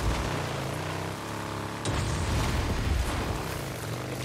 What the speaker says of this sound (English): it's snowing, it's slippery, or raining